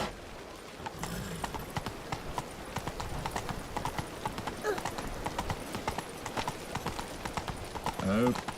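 Roach trots along in The Witcher 3: Blood and Wine, quick clip-clop hoofbeats repeating steadily and fairly quietly, with a short snort or whinny near the end.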